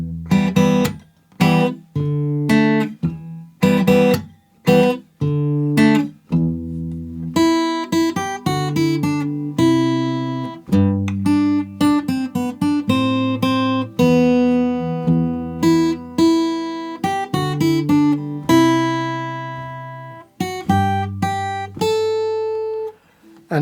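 Fingerstyle acoustic guitar plays the opening line of the Monkey Island main theme, clear plucked notes and chords in a steady melodic rhythm with brief pauses, close and alone.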